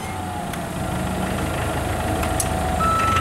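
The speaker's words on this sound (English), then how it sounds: "Has a rear backup alarm." On a 2006 Hyster S40FTS propane forklift, the rear backup alarm sounds a thin, steady high tone over the truck's engine idling in a continuous low rumble, close by and with no talking.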